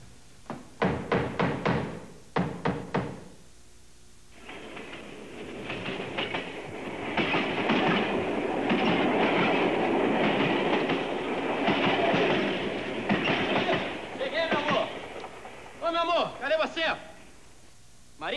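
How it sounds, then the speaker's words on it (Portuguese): A train rolls past close by with a steady roar and rhythmic clickety-clack of wheels on rails, preceded and followed by sharp knocking bangs, lasting about ten seconds before fading into more knocks. "eu vou esperar o trem passar"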